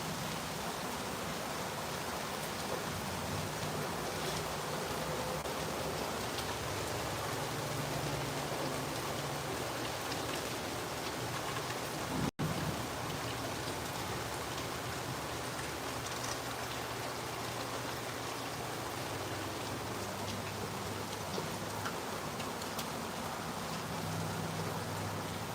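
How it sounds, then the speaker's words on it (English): Steady rain falls outdoors, a dense, continuous hiss of drops spattering on surfaces with no pauses, moderately loud and even, with one brief sharp knock midway. "It is raining."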